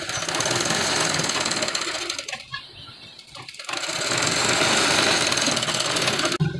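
Sewing machine stitching along a frock neckline, a loud, close, continuous mechanical whir that drops away for about a second in the middle before resuming, with no talking.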